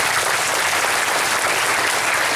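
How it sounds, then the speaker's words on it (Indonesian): Steady, dense applause from an audience honouring parents at a parenting seminar in an Indonesian Islamic boarding school, Darul Iman in Palembang, filling the whole span at even loudness with no talk over it. "Boleh tepuk tangan buat orang tua kalian."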